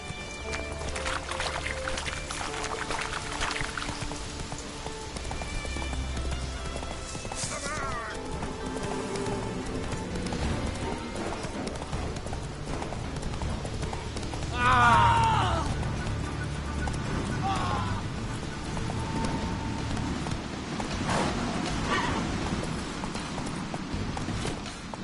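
Horse hooves galloping in a video game, a rhythmic clip-clop running under game music and ambience, with a brief louder burst partway through.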